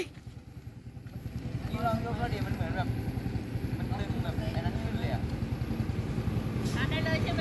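A new motorcycle revs hard for a wheelie, a steady throbbing engine drone that builds in the first couple of seconds and then holds loud and close, with voices talking over it.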